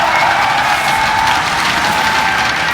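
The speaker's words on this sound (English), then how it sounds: "The StarTale bench is cheering." The StarTale team bench cheers at a 2012 GSTL StarCraft league final, loud, sustained applause and crowd noise without a break.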